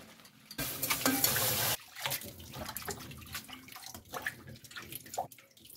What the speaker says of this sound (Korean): 헹궈줍니다.